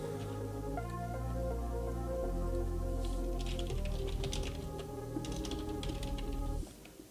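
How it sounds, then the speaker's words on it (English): Rapid keystrokes clatter on a computer keyboard, a burst of quick taps in the middle of the passage over a steady tonal musical backdrop, then a sudden drop near the end; no voices. "I keep typing and deleting and retyping."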